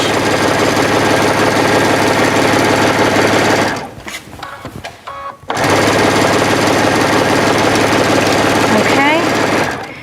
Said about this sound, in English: I'm stitching about 1/8 of an inch away from that folded edge